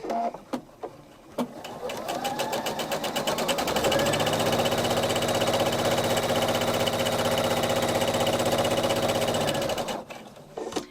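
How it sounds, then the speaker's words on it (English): A sewing machine stitches a 1/4 inch seam down quilt squares, starting with a few short clicks before settling into a loud, steady, rapid whir that holds for several seconds and then stops. "we're going to sew a 1/4 inch all the way down"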